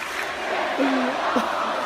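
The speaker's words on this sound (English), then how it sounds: "Crowd chanting." A crowd chanting sound effect, played for people watching during a street fighting competition: a steady, dense wash of massed voices with a couple of brief raised shouts rising out of it, fairly loud and continuous throughout.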